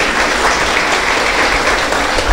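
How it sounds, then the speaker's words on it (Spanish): A church congregation at a wedding ceremony breaks into loud, dense applause that stays steady throughout, many hands clapping together close by. "¿Cuántos damos un voto de aplauso?"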